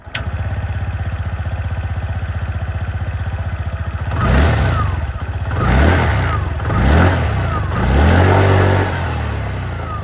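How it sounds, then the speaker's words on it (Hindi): A TVS Jupiter 125 scooter's engine and exhaust idle with a steady, even putter, then rev in four short throttle blips that rise and fall, loud and close. "यहाँ पर जो इंजन की साउंड है, एग्जॉस्ट साउंड,"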